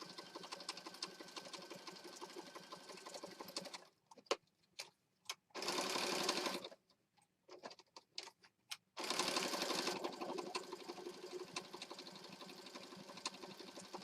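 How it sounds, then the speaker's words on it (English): A sewing machine zigzag-stitches around words in a junk journal, running in fast rattling bursts, pausing with scattered clicks, then whirring again in longer runs. "So over here at the sewing machine, and I've got it set, like I said, zigzag stitch."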